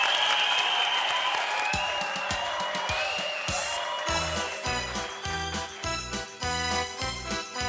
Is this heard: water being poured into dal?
no